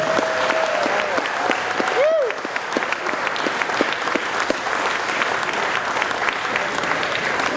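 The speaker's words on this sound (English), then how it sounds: "let's give a round of applause to everybody" Audience applauds steadily at the close of a student fiddle workshop concert, a dense sustained clapping from a sizable crowd that continues throughout, with a brief whistle or cheer partway in.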